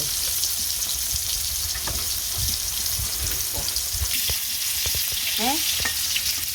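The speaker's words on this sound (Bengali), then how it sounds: "এই যে মাছ ভাজা হয়েছে নামিয়ে নিলাম" Fish frying in oil produces a dense, steady sizzle close by, with soft stirring knocks and light pan clinks scattered through it.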